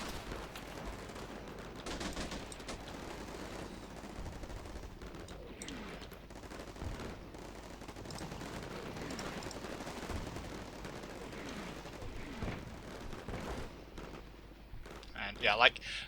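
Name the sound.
gunfire in Combat Mission Shock Force 2 video game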